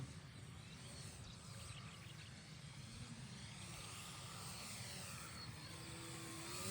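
An airplane on approach to land: a steady, broad engine drone with a faint whine holds throughout at moderate distance, growing slightly louder at the end, with no talk.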